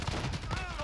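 Rapid gunfire bursts from a Modern Warfare match, dense and close, crackling through the whole short moment with game audio layered beneath.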